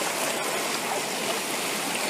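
Water runs through a 2-inch pipe on a gold mining machine, a soft continuous rushing trickle at low level with no talk.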